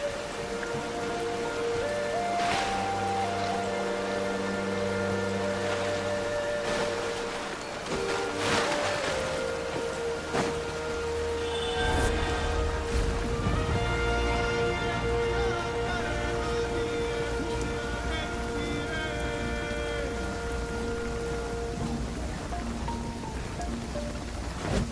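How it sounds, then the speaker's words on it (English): Steady rain patters throughout the Genshin Impact video game world, a dense continuous downpour with scattered droplet hits and brief brighter splashes, heard alone at moderate level. "It's raining again."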